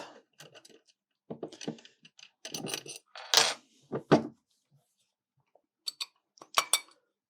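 FPS Racing engine crankcases being opened by hand, with scattered close metallic clinks and knocks in short irregular bursts separated by quiet gaps.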